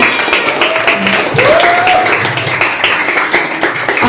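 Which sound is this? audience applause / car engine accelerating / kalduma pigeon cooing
audience applause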